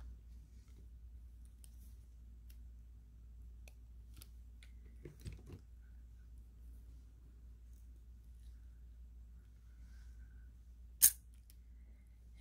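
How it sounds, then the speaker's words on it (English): Small cutters snip a tiny metal jump ring off a chain while making a necklace, quiet faint clicks scattered over low room hum, ending in one sharp close snip, no talk. "So we'll get another one of these little rings cut off."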